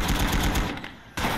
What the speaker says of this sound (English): Let's see how good these high explosive rounds are at close range